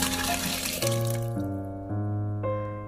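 Boiled ingredients and water are poured from a pot into a rice cooker, a close, continuous gurgling stream with shifting pitch and no talking.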